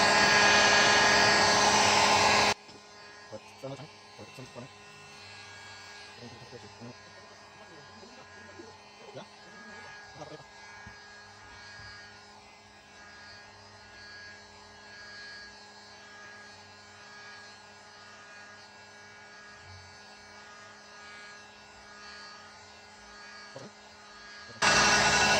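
A heat gun blows hot air onto an ECM circuit board from a Corvette C4, a steady close whooshing hum that runs throughout, loud at the start and end and quieter in between, with a person talking over it.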